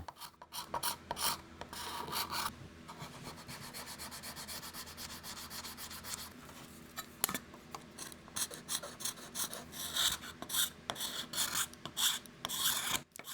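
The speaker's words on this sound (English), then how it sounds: "Scrapers and rosewood really do get along." A steel scraper rasps across a rosewood surface in repeated strokes, a close, dry scraping rhythm with short pauses between passes and no talking.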